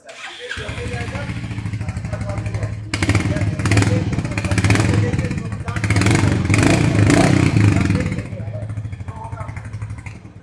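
A Royal Enfield Hunter 350 motorcycle engine idles loudly up close, with two bursts of revving that rise and settle back to a rumbling idle.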